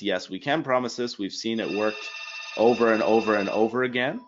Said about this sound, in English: Sorry about the phone there, guys.